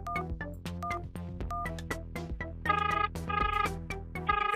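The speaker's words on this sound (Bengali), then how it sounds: "দেখি আমি ফোন করি। রিং তো হচ্ছে" A phone ringback tone plays in a repeating melodic pattern of clear pitched beeps that grows brighter midway, fairly quiet with no talking.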